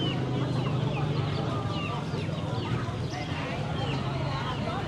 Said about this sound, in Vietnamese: Bên đây thì bán gà nè.